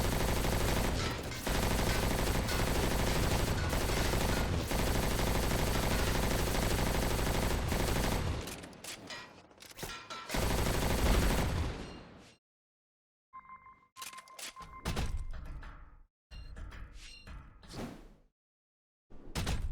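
Gunfire in the Xbox 360 game Crackdown 2: sustained, dense automatic fire fills the first half, then breaks into scattered loud bursts and single shots with short silent gaps.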